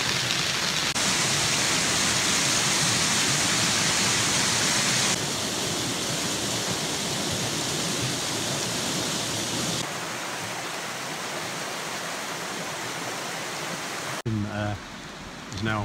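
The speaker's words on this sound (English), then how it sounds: "wait for the rain to abate" Steady heavy rain pours down on a bushcraft camp in a constant hiss, with no talking, then fades abruptly at the end as a faint voice begins.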